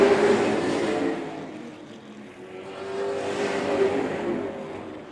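A pack of Super Late Model stock cars roaring off at the green flag: a continuous engine drone that swells, fades slightly, then builds again, heard from a distance with no talking.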